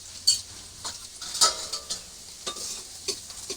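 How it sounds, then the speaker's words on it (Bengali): Potatoes fry in a kadai in a village kitchen, with soft sizzling broken by a series of scraping stirs and light metal clinks from a spatula, close and fairly quiet, with no voices. "আলুটা এখন ভেজে নিয়েছি"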